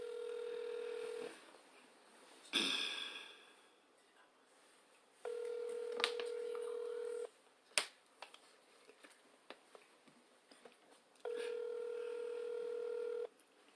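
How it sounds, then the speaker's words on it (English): Telephone ringback tone on an outgoing call, repeating in long steady bursts separated by silence, with faint clicks and a sharp snap between rings; no one speaks. "I'm waiting on him. It's ringing."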